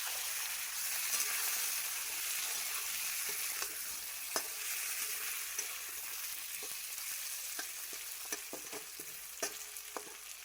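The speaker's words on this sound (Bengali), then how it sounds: "তো টমেটোটাকে একটু ভালো করে নাড়াচাড়া করে নেব" Tomato and potato fry in a pan while being stirred, a continuous sizzle broken by repeated scraping and tapping of the spoon, close and without talk.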